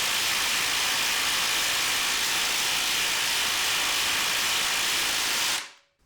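HART and Ryobi impact drivers drive lag screws together in a loud, close, continuous hissing rattle that holds steady for over five seconds before cutting off abruptly near the end.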